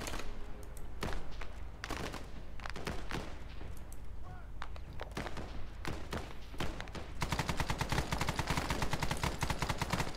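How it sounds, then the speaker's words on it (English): PKM machine gun suppressive fire in Arma 3, loud close bursts of rapid shots separated by pauses, building into a long continuous stream of automatic fire at the end. "I'm getting the PKM to suppress fire."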